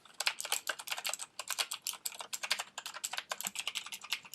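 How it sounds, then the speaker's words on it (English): Quick, clicky keystrokes on a Razer mechanical keyboard rattle in irregular bursts of rapid typing, close and crisp, with no voices. "So it's a mechanical keyboard"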